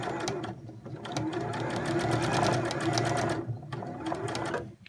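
Sewing machine stitching through several layers of fabric for a scrubs tie-back hat, a rapid close mechanical whirr running in bursts with brief pauses between them.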